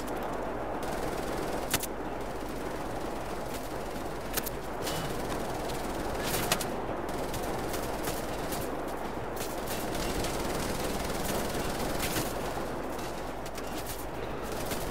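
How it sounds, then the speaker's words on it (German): Sustained automatic gunfire and scattered shots from the video game Wolfenstein: The New Order, a dense continuous barrage with sharp cracks throughout, loud and unbroken for the whole stretch. "Von wo werde ich jetzt beschossen?"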